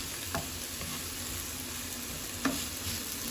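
Grated potatoes, onion and garlic sizzle steadily in vegetable oil in a pan, a soft, continuous frying hiss with a couple of faint stirring clinks, and no one speaking.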